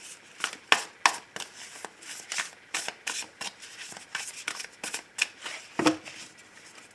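Tarot cards shuffled and cut by hand, a brisk run of crisp riffling flicks and soft slaps in uneven bursts, close and fairly quiet, with no talking.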